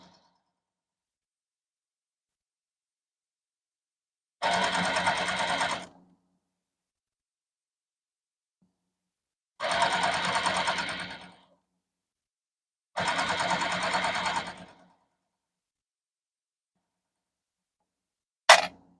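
A new sewing machine stitches fabric in three bursts of steady mechanical whirring, each lasting a second or two and separated by silence, with a short click at the end.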